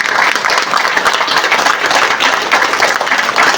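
An audience standing and clapping, a steady, dense wash of loud applause sustained from start to finish.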